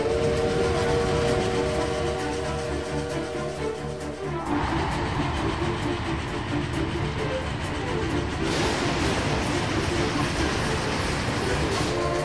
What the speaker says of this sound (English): Is that a train?